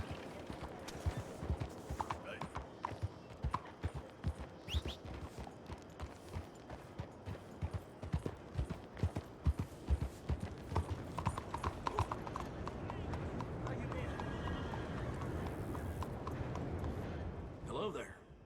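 Horse hooves clip-clopping at a steady walking rhythm in Red Dead Redemption 2, close and distinct, with a character talking over them and a dull rumble building near the end.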